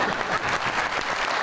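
A television talk show studio audience applauds, a dense, continuous, loud wash of many hands clapping at once with no talk.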